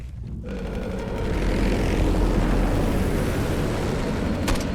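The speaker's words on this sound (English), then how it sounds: "He's got a helo." Helicopter in the game Condemned 2: Bloodshot, a loud, steady rotor-and-engine roar that swells slightly and holds continuously, rumbling heavily through the low end with no talk over it.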